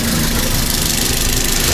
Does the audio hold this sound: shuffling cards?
no